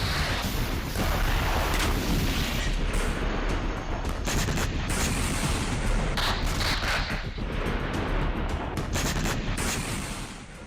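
Dense, continuous barrage of loud blasts and booms, like heavy artillery and explosions rolling together without pause.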